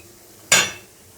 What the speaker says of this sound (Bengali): এবার আমি বড়াগুলো তুলে নিচ্ছি।